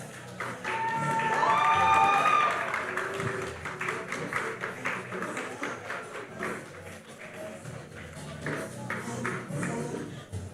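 Audience applause fills a hall at the 2023 Caribbean Global Awards ceremony as an honoree is called to the podium, a steady wash of clapping with some cheering that swells early and then holds at a moderate level.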